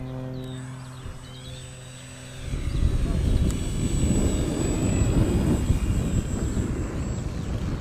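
A Durafly SE5A model airplane engine comes in to land, starting as a faint tonal whine and then swelling into a loud, steady roar that holds to the end outdoors.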